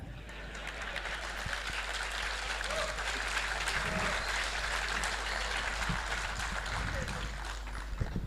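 An audience at a Hindi-language interview event claps in steady, dense applause throughout, a sustained crackle of many hands at moderate volume with faint voices underneath.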